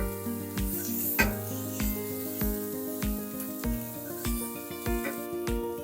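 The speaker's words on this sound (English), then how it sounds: "This is typical stir-fried vegetable." Vegetables stir-frying in a pan, a steady loud sizzle broken by regular clanks of a utensil against the pan, roughly one or two knocks per second, with no talking.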